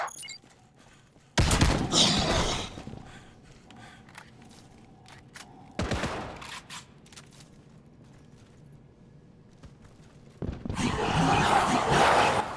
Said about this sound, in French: J'imagine que Blackwood pilonne la villa.